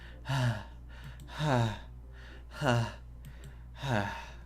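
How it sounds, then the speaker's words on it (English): In Doki Doki Literature Club, a video game set in a school hallway, someone takes four sharp, evenly spaced inhales, like air sucked through teeth, over a steady low hum. "A sharp inhale, like someone sucking air through their teeth."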